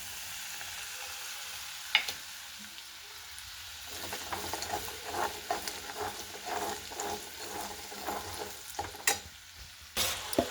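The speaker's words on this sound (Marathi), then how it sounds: "एक कढईत तेल टाकलं आणि आता मी सगळे मसाले टाकते." Ground spices (coriander powder, chilli, garam masala and turmeric) hit hot oil in a kadhai, a quiet hiss that swells into a steady sizzle with scattered sharp crackles and spoon scrapes.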